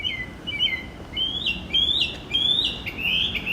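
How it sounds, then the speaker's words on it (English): Bird calling outdoors late at night on a street in Williamsburg, Brooklyn: a loud, near series of clear, rising whistled chirps repeated in quick bursts, with no talking. "I love the sound of birdies."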